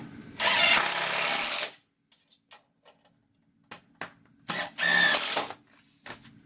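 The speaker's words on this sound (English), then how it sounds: "as I push the screw in, this thing isn't sliding backwards" Screws driven into plywood boards on a flat surface with a power driver, two long loud buzzing bursts separated by a quiet gap filled with small clicks and taps.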